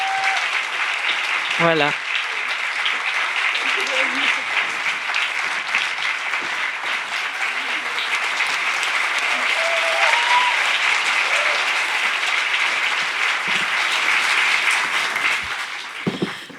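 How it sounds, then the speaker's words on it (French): Audience applause fills a festival closing ceremony at FIFDH 2026, steady and sustained throughout while a host's voice speaks briefly over it. "Vous pouvez continuer les applaudissements, les reprendre."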